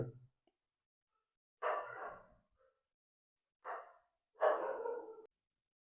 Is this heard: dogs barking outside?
yes